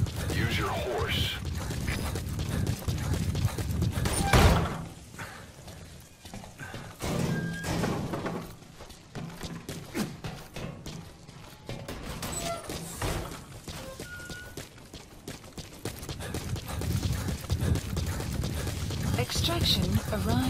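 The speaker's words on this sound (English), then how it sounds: "Use your horse." Horse hooves clip-clop on open ground in the video game Metal Gear Solid V: The Phantom Pain, a brisk rhythmic trot with a whinny near the start. Game voices and effects are heard alongside it at moderate volume.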